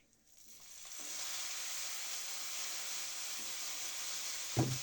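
Vermicelli browned in a pan sizzles loudly as tomato juice is poured in, a steady close frying hiss that swells within a second and holds, ending with a small clatter.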